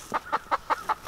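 Backyard chickens cluck six times in a steady, evenly spaced rhythm, close and fairly clear, with no talking.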